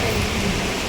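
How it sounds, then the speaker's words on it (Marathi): Rain falling on a trip to the Ekvira Devi temple, a dense steady hiss of drops over the ground, close and continuous with no talk. "पाऊस आला"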